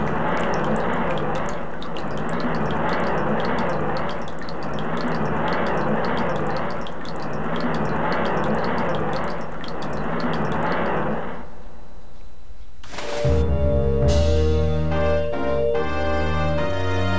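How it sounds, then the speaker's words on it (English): Water droplet falling and a portal spawning in the video game Zelda: Ocarina of Time, a long shimmering watery ambience that ends abruptly, then a bright chime and a rising tonal swell as the portal appears. "the water droplet coming down and making the portal spawn was pretty sick"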